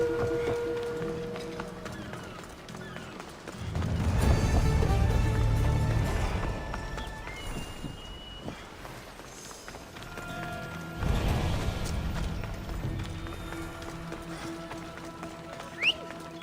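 Horse hooves pounding in a gallop in Assassin's Creed Odyssey, loud rumbling bursts near the start and again midway over a steady bed of game ambience and music.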